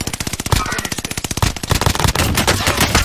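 Loud, rapid automatic gunfire in a first-person shooter game, with fast rhythmic bursts of shots and short gaps, then more ragged overlapping fire toward the end.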